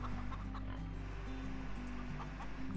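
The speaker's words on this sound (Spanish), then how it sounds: "¿Qué hace esa gallina ahí fuera?" A hen clucking in the farming game Farm Together, a series of short repeated clucks over a steady low ambient hum, fairly quiet and with no voices.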